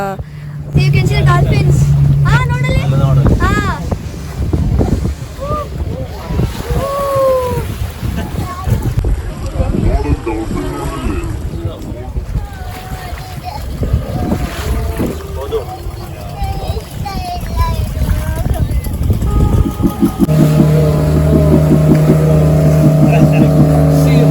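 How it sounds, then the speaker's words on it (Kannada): A motorboat heads out on a roughly 45-minute dolphin ride at sea off Goa, its engine droning loud and continuous over the waves while people talk and exclaim over it. "ಒಂಥರ ಭಯ ಆಗುತ್ತೆ ಆ ವೇವ್ಸ್ ಮೇಲೆ ಬೋಟ್ ಹೋಗ್ತಾ ಇರುವಾಗ."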